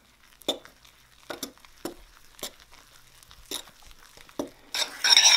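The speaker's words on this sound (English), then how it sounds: "Alright, so we're just going to mix it all up." Muffin batter with baking soda and baking powder being stirred in a bowl for banana chip muffins, heard as several separate scraping and clinking strokes spaced about a second apart, then a louder rustling burst at the end, with no speech.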